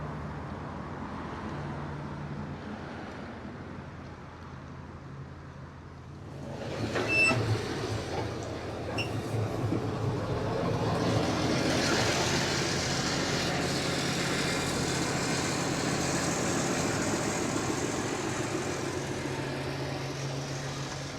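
Tractors working after dark on an allotment, a steady engine rumble that swells into a louder, broader roar partway through and then holds, continuous and moderately near, with no talk.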